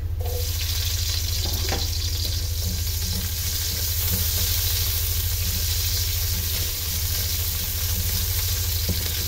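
Onions sauté in a pan for adobong isaw ng baboy, a steady, close sizzle with faint stirring scrapes and no voices.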